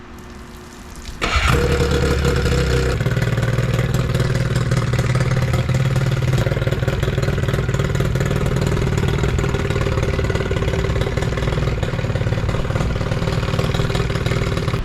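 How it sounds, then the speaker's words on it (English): A Johnson outboard motor on a small budget-built speed boat starts abruptly and settles into a loud, steady idle that runs continuously and close by, with no talking over it. "let's go ahead and fire up this Johnson and make sure that everything's sounding and running great"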